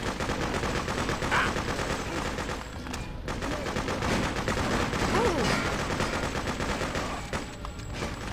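Sustained gunfire in the Freedom Fighters video game, dense bursts of shots crackling continuously and loudly for the whole stretch, with a brief lull near the middle.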